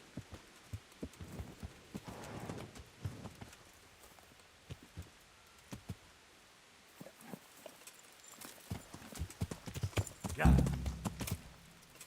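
In Kingdom Come: Deliverance, a horse's hooves clip-clop in an uneven galloping rhythm over light rain-like patter, with a heavier thump near the end, fairly faint and at mid distance.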